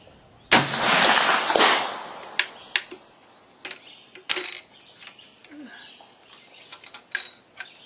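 Sharp, loud crack of a single .45-70 rifle shot firing a 406-grain hollow-base bullet on a hot load, followed by a rolling echo and a few fainter clicks and taps outdoors.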